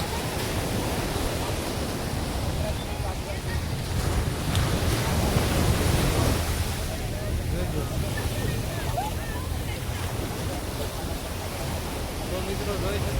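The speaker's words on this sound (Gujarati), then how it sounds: "આ કવડા કવડા મોજા આવે છે" Sea waves roll onto the shore at Miramar beach in Goa, a broad, steady wash of surf mixed with wind buffeting the microphone, swelling slightly midway, while people talk nearby.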